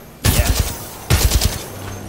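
Two quick bursts of pistol fire in the video game Titanfall 2, each a rapid run of four or five loud, sharp shots, separated by a short pause, with no talk over them.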